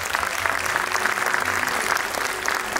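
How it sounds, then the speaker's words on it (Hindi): At the opening ceremony of a dance show, an audience breaks into strong, continuous applause for two children taking the stage. The clapping forms a thick, unbroken wash at even volume throughout, with no speech over it. "दोनों बच्चों के लिए प्लीज जोरदार तालियां हो जाए।"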